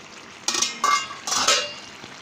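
Metal lid lifted off a covered cooking pot of taki fish curry with mixed greens and vegetables, giving a few close clanks and scrapes spread over a couple of seconds, with no talking.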